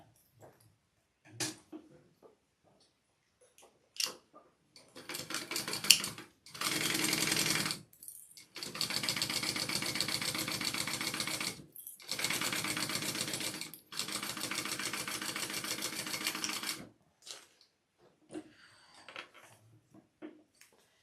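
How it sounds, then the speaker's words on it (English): A sewing machine stitches the slip pocket pieces of a leather clutch together in several bursts of rapid, even needle chatter, each lasting a few seconds and separated by short pauses and small handling clicks. "we're going to sew our 2 slip pocket pieces together at the seam allowance in the pattern"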